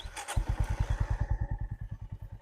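A Honda CB350 H'ness DLX Pro 2026 motorcycle engine idles close by with a steady, thumping single-cylinder beat, loud and even, with no voices over it.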